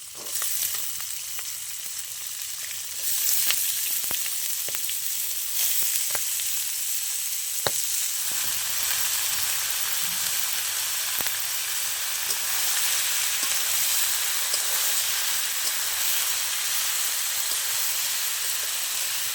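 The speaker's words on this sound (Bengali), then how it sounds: "এবার আমি দিয়ে দেবো কেটে রাখা চাল কুমড়ো।" Cut ash gourd tipped into a pan of frying chickpeas sets off a bright, constant hissing sizzle, with a few sharp clacks of the spoon early on, close by and without speech.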